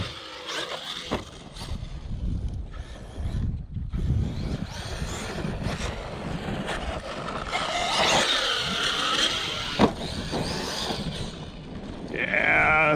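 Arrma Kraton V3 RC car running hard off ramps, its motor whining and straining in a ragged, unhealthy way, rising and falling with bursts of speed and a sharp knock near the end, fairly close throughout.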